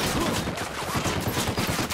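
Dense automatic gunfire in the shooter game Ghost Recon Wildlands, a continuous loud fusillade of rapid overlapping shots with no pauses.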